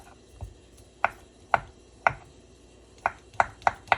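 Knife chopping vegetables for a ground beef taco salad, about eight sharp, close taps on a cutting board at an uneven pace, with short quiet gaps in between.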